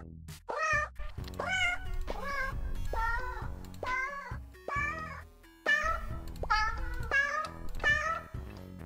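Cats in a video game meow over and over, roughly ten loud, close, drawn-out meows in a steady rhythm with short gaps, and no talking.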